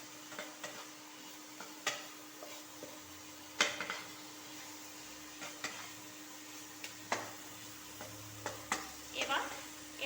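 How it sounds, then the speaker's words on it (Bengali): Potatoes being stirred into sizzling masala in a pan for a rohu fish curry: a steady soft frying hiss broken by repeated sharp spoon scrapes and clinks against the pan. "এবার আলুগুলোকে মশলার সাথে ভালোভাবে মিশিয়ে নেব।"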